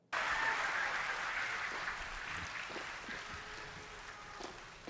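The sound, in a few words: cheering in a video game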